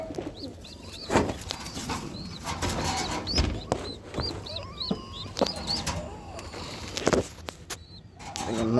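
A pigeon flaps its wings in short bursts while being caught by hand, with scuffling, soft coos and faint bird chirps around it, and some brief voices in the background.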